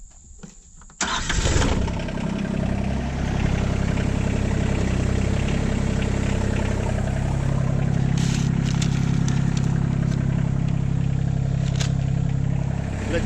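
An old tractor engine starts up and settles into a steady, loud low idle, rumbling continuously close by.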